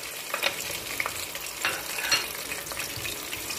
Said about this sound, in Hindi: सबसे पहले हम इसमें ज़ीरा और हरी मिर्च डाल देंगे।